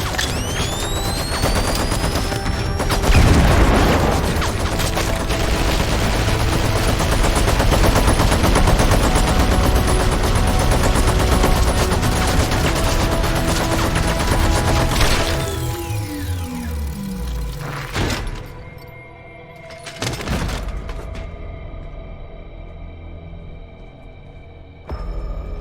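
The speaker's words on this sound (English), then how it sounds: "I'm gonna use the flash grenade." Video game firefight: dense, rapid automatic gunfire and explosions pour out nonstop for about fifteen seconds, then taper into scattered bursts and sharp blasts, followed by a ringing tone and quieter moments.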